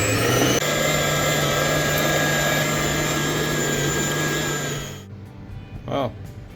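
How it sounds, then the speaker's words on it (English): A Kenwood Chef mixer churns minced venison and pork belly with a loud, steady motor whine that cuts off near the end, followed by a short burst of voice. "we'll mix it properly with the Kenwood chef mixer"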